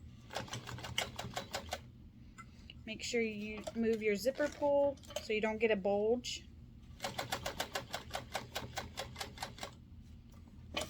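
A sewing machine topstitches around a zipper at an eighth-inch seam, running in rapid, steady bursts at the start and end, with a person talking in between.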